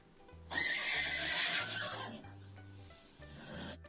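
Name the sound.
horse neighing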